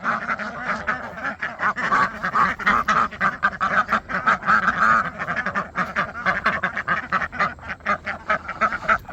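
Ducks quack repeatedly in a busy, overlapping chorus, nearby and fairly loud, with no people talking.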